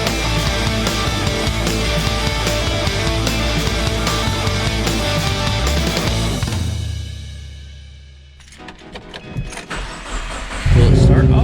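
A cold Mazdaspeed 3 running on E85 roars loudly with engine noise, drops to near quiet, then fires up with a sharp loud startup, mixed with talking.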